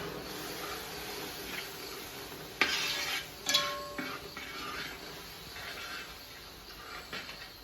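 Hot water stirred into a fish pickle masala paste, with soft scraping stirs, a couple of sharp clinks of utensil against the pot, and a faint sizzling hiss underneath, close and fairly quiet.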